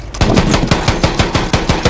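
Rapid, loud automatic gunfire in a Battlefield 1 Conquest match. Evenly spaced sharp shots, about eight per second, ring out near and continuously with no talk over them.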